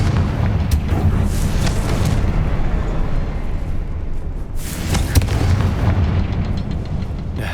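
Confringo fire spell explosions in the Hogwarts Legacy video game: heavy booming blasts over a continuous deep rumble, with sharp bursts near the start and a cluster of loud impacts midway.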